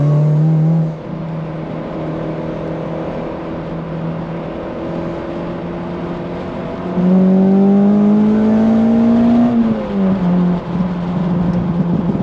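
Car driving on an English road, heard from inside as a steady engine hum that climbs in pitch through the gears, drops at a shift, and climbs again, fairly loud and continuous, no speech.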